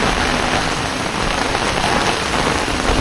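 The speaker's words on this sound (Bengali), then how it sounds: "এত বৃষ্টি হচ্ছে, এরকম বৃষ্টি মনে হয় এই সিজনে প্রথমবার" Heavy rain pours down during a flood in Vrindavan, a dense, loud, unbroken hiss of drops striking surfaces close by, with no voices.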